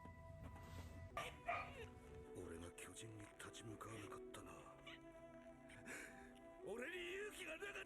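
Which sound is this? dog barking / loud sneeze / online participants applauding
dog barking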